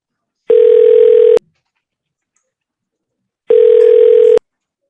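A telephone ringback tone sounds while a call is placed, two loud steady tones about a second long with a gap of silence between them, and nobody talks.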